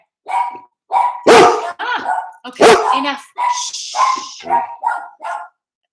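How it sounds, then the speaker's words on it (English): A small dog barks and yips repeatedly up close, sharp and loud, while a person speaks over it trying to quiet it. "Sorry about the yappy dog in the background."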